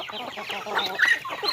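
Bantam hens and their chicks cluck and peep close by in a short, busy burst of overlapping calls on a farmyard flock.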